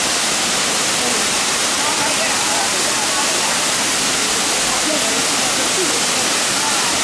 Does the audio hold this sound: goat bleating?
no